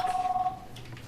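A police emergency dispatch line gives one short, steady electronic telephone tone that cuts off abruptly, leaving a faint hum.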